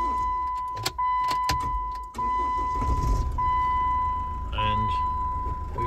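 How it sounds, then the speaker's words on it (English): A Jeep Wrangler Unlimited engine cranks and catches, settling into a steady idle close by, with a sustained electronic chime tone and a few clicks and thumps from inside the cabin. "start the car up"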